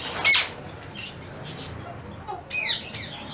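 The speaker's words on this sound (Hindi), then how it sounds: "ये रिंग नेक के ब्रीडर पेयर हैं कन्फर्म, बड़े पेयर हैं" Ring-necked parakeets, a breeder pair at a Sunday bird market, let out a couple of short sharp chirps and a flutter of wings, close by over faint background noise.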